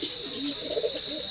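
Madras pigeons in a loft give soft, low rolling coos, several overlapping calls close by over a steady background hiss.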